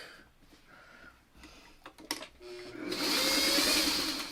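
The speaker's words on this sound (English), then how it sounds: "Let's sew this together first, because this comes together very quick." A sewing machine stitches quilt pieces together, starting with a few scattered clicks and handling noises, then running into a loud, steady mechanical whir for the final stretch.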